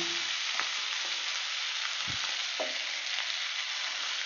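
Chopped fenugreek greens hit hot oil tempered with fenugreek seeds, giving a steady, loud, dense sizzle throughout with a few light stirring scrapes and a brief low thump; no talking.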